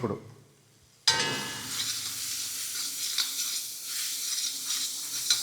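Turmeric sizzling with gongura leaves in a hot pan, a sudden loud frying hiss after a quiet start, steady and close with stirring scrapes throughout.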